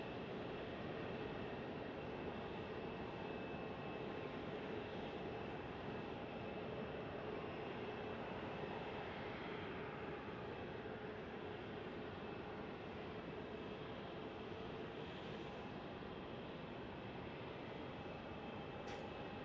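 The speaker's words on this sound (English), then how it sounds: "Inbound aircraft, right, from Albuquerque." An airliner inbound from Albuquerque approaches Phoenix Sky Harbor Airport, heard as a constant broad roar of engine noise with a faint steady whine, distant and even throughout, with no voices.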